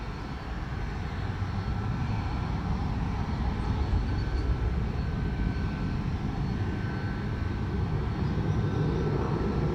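A Delta airliner takes off from runway 25 at Montego Bay's Sangster airport in Jamaica, its engines giving a loud, steady, broadband roar that holds throughout at close range.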